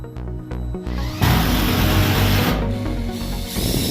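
A power drill bores pilot holes for lag screws while anchoring a Clopay garage door installation, a close, loud whirring burst after a few short starts.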